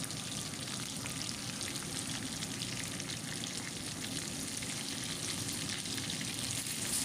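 Chicken frying in a pan for cooking, a steady, dense sizzle and crackle that holds evenly throughout with no talk.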